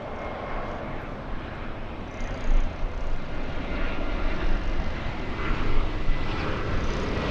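A JetBlue airliner comes in to land, its engine roar a broad, steady rumble that grows louder midway and holds on, heard from a distance outdoors.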